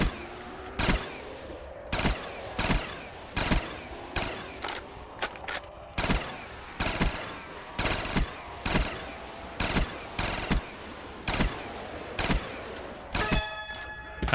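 Repeated gunfire in Call of Duty custom zombies, zombie-shooting video game: about twenty sharp shots in uneven bursts and singles, loud and close, with no talk.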